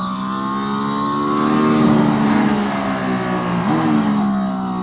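An AMG ONE engine revs up loudly and steadily accelerating out of a corner, its pitch climbing through the gears close by, with a brief shift dip partway through.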